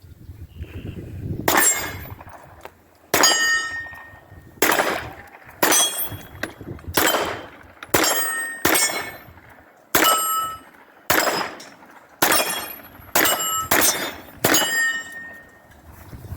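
A CZ 83 .380 ACP pistol fires about a dozen sharp, loud shots at steel targets outdoors, spaced roughly a second apart, each crack followed by a ringing decay.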